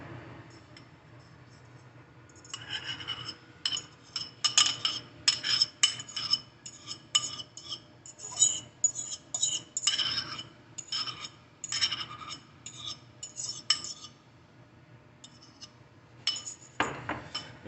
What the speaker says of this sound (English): So we're just going to give it a stir.